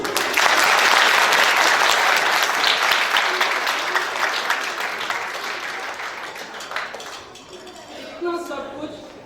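Applause from an audience at a school annual function, loud and dense at first, then slowly thinning and fading, with a few voices surfacing near the end.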